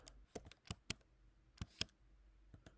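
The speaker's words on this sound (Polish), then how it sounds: "Wpisujemy tutaj nazwę naszej nody" Fingers tap on a computer keyboard in short, irregular bursts of crisp keystrokes, with pauses in between. The typing is close and fairly quiet, with no talking.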